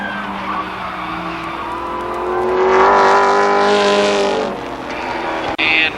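ARCA Pro 4 race cars on the Columbus Motor Speedway oval screeching through a long tire squeal as they skid into turn three, rising to a loud peak before an abrupt break, with engine drone underneath.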